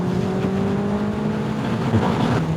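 Suzuki Hayabusa motorcycle engine running on city streets, a steady mid-pitched drone whose pitch rises briefly near the end, close and fairly loud with no talk.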